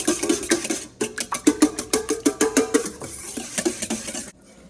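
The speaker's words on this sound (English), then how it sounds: "First thing is whisk together your eggs." A whisk beats eggs in a bowl in quick, rhythmic strokes, clattering and tapping against the sides, then stops abruptly near the end.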